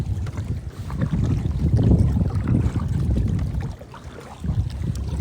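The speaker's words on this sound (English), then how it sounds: "See, just like that, the wind picks up, you know?" Wind gusting across open water during kayak fishing, a steady low rushing roar with buffeting on the microphone that swells and eases, the hull and water faintly beneath it.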